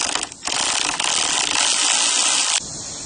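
A 10mm wrench ratcheting on a bolt at a radiator on a 2003–2008 Chevy Trailblazer, a rapid clicking run of about two seconds, close and clear with no talk.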